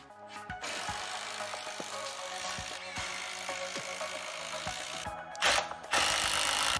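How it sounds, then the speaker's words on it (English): Plywood workbench frame ends fastened with screws, heard as a series of short power-driver whirs and thumps close by, a louder burst near the end, with no talking. "I'm just going to screw right through the ends here and create the frame"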